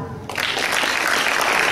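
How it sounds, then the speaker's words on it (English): Students and teachers at a school class presentation clap together, a dense steady burst of applause that starts abruptly and holds loud and even. "I would hear some claps."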